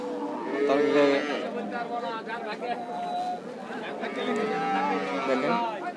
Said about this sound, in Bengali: দর্শক এর পাশে দেখতে পাচ্ছেন একটা একটা গাভী বাধা আছে